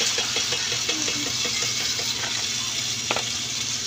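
Coconut milk cooking in a pan with winged beans and saluyot, giving a steady soft bubbling sizzle close by, with faint stirring clicks and a constant low hum underneath and no talking.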